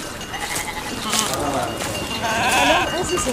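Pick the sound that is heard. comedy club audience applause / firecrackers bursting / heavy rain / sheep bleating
sheep bleating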